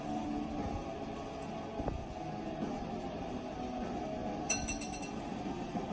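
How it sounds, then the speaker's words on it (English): Whisking ingredients in a bowl for keto chocolate peanut butter fat bombs: steady scraping with a few bright clinks of the whisk against the bowl near the end, close and moderately quiet, with no talking. "Thoroughly whisk together."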